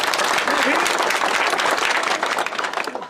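An audience applauding in dense, steady clapping that stays loud for a few seconds before thinning slightly, with voices mixed in.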